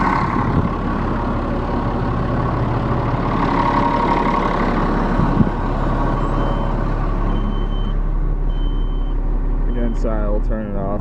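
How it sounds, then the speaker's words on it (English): A Kenworth T300 dump truck engine idles steadily and loudly up close, a constant rumble with a beeping tone near the end; a person talks over it. "There's the engine."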